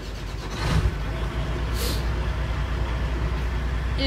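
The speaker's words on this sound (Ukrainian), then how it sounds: "прекрасний двигун Caterpillar. Майже вся військова техніка на катерпілерах." A Caterpillar diesel engine in a military vehicle starting and then running, a loud rough rumble rising after a brief hiss and settling into a steady close idle.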